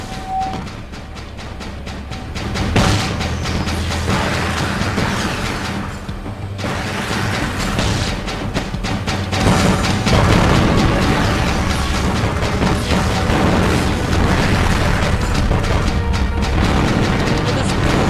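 Explosions and crashes from a Jak 3 level as targets are shot out. A dense, loud, continuous stretch of booms, bursts and impacts with a brief dip partway through.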